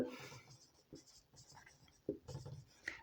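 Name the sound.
writing on a board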